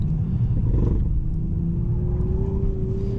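A Toyota Supra with a manual gearbox roars steadily on a track with a rising tone as it accelerates, loud and close, with a deep rumble underneath.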